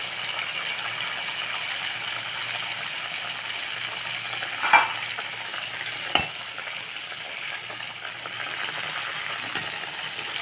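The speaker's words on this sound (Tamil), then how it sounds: "இந்த மாதிரி அகலமான ஒரு கடாயில் நம்ம பண்ணோம்னாக்க நம்ம ஒரு 2-3 கூட போட்டு பொரிச்சிக்கலாம்." Sweet pooris deep-fry in hot oil in a wide kadai with a steady, moderately loud bubbling sizzle. A couple of sharp clinks and splashes come through, and no voices.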